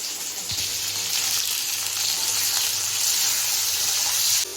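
Long-cut okra strips frying in oil, a steady, even sizzle with a soft hiss that holds for about four seconds before cutting off abruptly, with no speech.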